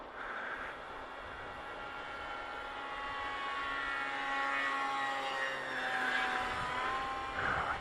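Electric motor of a scratch-built stacked-slice RC model airplane whining in flight, a steady buzzing drone with gently shifting pitch as it passes overhead at moderate distance, with wind noise.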